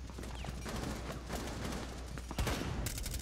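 Gunfire in the tactical shooter Rainbow Six Siege during a hostage match, a dense spread of shots and bursts layered over steady game ambience, with a sharper, louder cluster of shots near the end.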